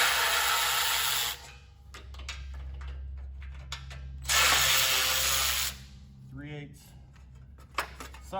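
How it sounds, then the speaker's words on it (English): Socket wrench loosening belt cover bolts on a Grasshopper Powervac mower, quick clicking ratchet strokes between loud bursts of a running motor nearby, with a voice talking briefly. "Socket, we'll get those out."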